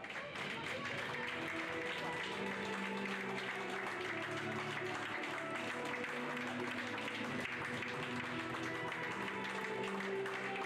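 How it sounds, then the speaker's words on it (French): Audience at an outdoor prize-giving for pony carriage-driving club championships applauding steadily, a dense continuous patter of clapping over a bed of crowd murmur and distant voices that lasts the whole stretch. "vous pouvez les applaudir bien fort"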